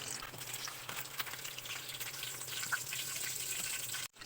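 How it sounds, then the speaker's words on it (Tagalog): Sunny-side-up egg frying in a pan, a soft, steady hiss and crackle of sizzling oil running continuously at low level before cutting off abruptly at the end. "Magprito muna tayo ng sunny side up para sa ating toppings."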